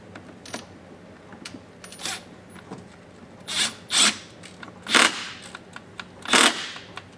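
Fasteners being tightened on Yamaha Wolverine RMAX2 fenders, close ratcheting and clicking bursts, a few faint clicks at first, then louder grinding turns in short separated spurts.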